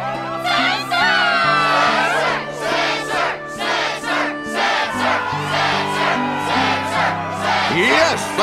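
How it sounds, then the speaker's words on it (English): A crowd at a Struggle tournament match in Kingdom Hearts 2.5 HD Remix on PS5 cheers and shouts excitedly, steady and loud across the whole stretch, mixed with background game music. "Yes, the crowd is fired up"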